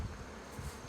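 Honey bees buzz around a flow hive, a faint continuous low drone with slight pulsing, no talking.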